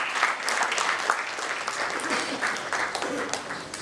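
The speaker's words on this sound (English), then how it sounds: "Let's welcome her with a big round of applause." At a sports conclave held by a chamber of commerce, an audience gives a big round of applause, a continuous crowd of hands clapping at an even, moderate level for the whole stretch, with no voices standing out.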